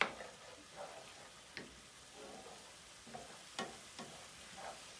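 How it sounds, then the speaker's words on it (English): Garlic frying in a pan while being stirred, giving a faint steady sizzle broken by a few light scraping taps, close and quiet with no voices. "So we put our garlic in. We continue to stir this around in the pan."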